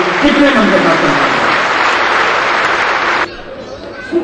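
Audience applause greets a poet at a televised poetry gathering, a dense, steady wash of clapping that holds strongly for about three seconds, then drops away abruptly to a quieter room hum.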